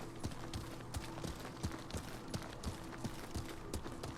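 Hooves of a horse in the game Ghost of Tsushima clop in a steady repeating rhythm at a trot, fairly close, each strike a soft, muted thud, with no talking.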